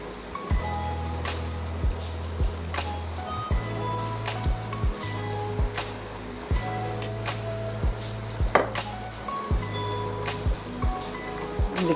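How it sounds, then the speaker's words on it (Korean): Tofu and potato stew bubbles in a pot, with irregular soft pops and ticks over a steady low hum, close and moderately quiet, with no talking. "이렇게 끓는다 벌써. 이렇게 해서 감자만 푹 익도록 끓이면 돼요."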